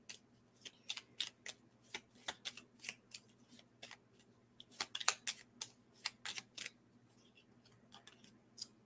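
Oracle cards being shuffled and pulled at a reading table, a run of quick crisp riffling snaps and flicks in irregular bursts, close and fairly quiet with a low steady hum beneath and no talking.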